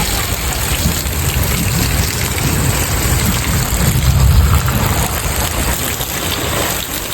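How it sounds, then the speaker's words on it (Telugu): Heavy rain pours steadily outdoors, a loud, dense and unbroken hiss of drops drumming on surfaces throughout, swelling slightly midway, with no voices. "వర్షం వస్తుంది ఇక్కడ, బయటికి రాకండి"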